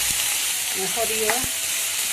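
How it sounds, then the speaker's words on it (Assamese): Eggplant with salt and turmeric sizzles and crackles in a hot pan, a steady close frying hiss with a few clinks and scrapes of stirring. "নিমখ হালধি দি ভাজি লওঁ"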